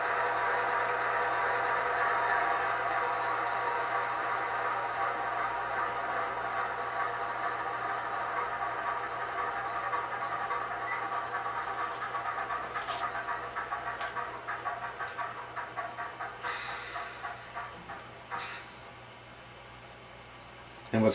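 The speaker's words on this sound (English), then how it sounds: "But here's the shutdown sequence of the engine." A Bowser MLW C630M model locomotive in Canadian National livery runs through its shutdown sequence. Engine drone and tonal hum gradually fall away, with a sputtering patch in the final seconds before it settles quiet, then a brief click at the end.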